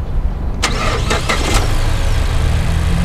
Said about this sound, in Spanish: quiero que escuches cómo se percibe este motor. Por eso lo tengo ahorita así abierto el cofre y vamos a ver primero cómo prende.